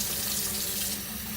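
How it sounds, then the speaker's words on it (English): Water pours steadily over cold brew coffee grounds, a close, continuous splashing rush with no talking. "Adding a little more water as you go."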